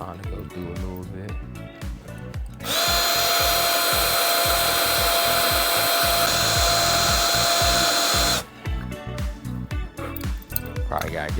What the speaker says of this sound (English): so get the drilling